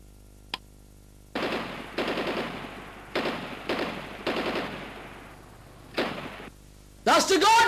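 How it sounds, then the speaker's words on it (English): Toy-style laser gun sprinklers wet a lawn, firing a series of loud, sharp gun-like bursts of spray, several separated by brief gaps, before a voice cuts in at the end. "I'm going to use these new super laser gun sprinklers to wet the grass."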